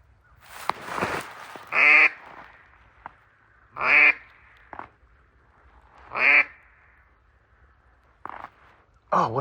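Ducks quack in loud, close, repeated bursts, about four calls spaced a couple of seconds apart, heard near a hunting spread of decoys with faint background noise between calls.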